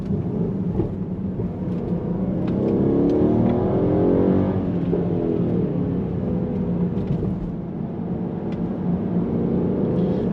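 A Mercedes-Benz GLS 63 AMG in Sports Plus mode drives twisty roads. Its deep engine rumble swells under acceleration and settles, with scattered sharp exhaust pops and crackles, close and loud, with no voices.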